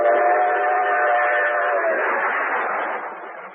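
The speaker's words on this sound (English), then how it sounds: "day and night great trains rush toward the Hudson River" A radio sound effect of trains rushing along the rails toward the Hudson River. A steady, roaring band of rail noise with a faint whistle tone on top holds loud and continuous, then fades slightly near the end.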